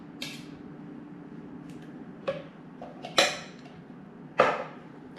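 Tablespoons scoop soft black soap gel for a homemade multi-surface cleaner, producing a few sharp, close scraping clicks at irregular intervals in a quiet room.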